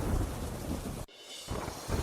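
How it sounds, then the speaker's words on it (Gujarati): Heavy monsoon rain pours steadily with deep rumbles of thunder in Porbandar district, Gujarat, a brief sharp break midway before the downpour resumes. "પોરબંદર જિલ્લામાં ધોધમાર વરસાદ વરસ્યો"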